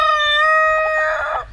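A fluffy silkie rooster crows once on an off-grid homestead, a loud, close, sustained cock-a-doodle-doo with a rising, strained finish, heard alone without talk.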